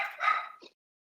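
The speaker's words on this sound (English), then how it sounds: "I think the dog said aye." A dog gives one short, sharp bark with a quick yip trailing after it, heard fairly close in a quiet room during a plan commission meeting.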